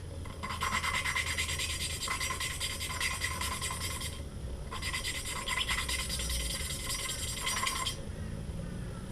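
A rasping, gritty grinding sound as a Honda CB 125 K3 engine valve is lapped with a suction cup tool, rubbed back and forth in two long bursts with a short pause between them, heard close up.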